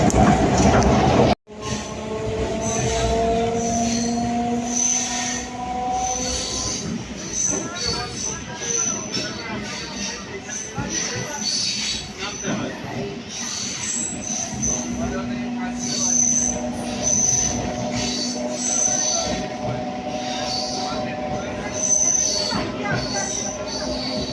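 Train pulling into Namkhana station, with wheels squealing on the rails, a steady rumbling roll and occasional clicks, loud and close, while people talk faintly nearby.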